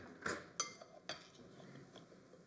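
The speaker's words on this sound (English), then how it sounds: "I'm gonna grab a big spoon and we're gonna mix this up" A big spoon stirring berries and sugar in a dish, a few soft clinks and scrapes spaced apart, quiet and close.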